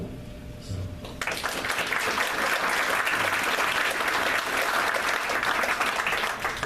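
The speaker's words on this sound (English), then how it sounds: "So I'd like to applaud their effort" Audience applause at a board of education meeting, a brief quiet murmur giving way to sustained, dense clapping from a room full of people that holds steady to the end.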